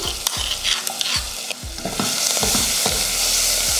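Shallots, curry leaves, turmeric and crushed garlic sautéing in oil for rasam, a spatula scraping and tossing in quick irregular strokes over a close sizzle that grows louder and fuller toward the end.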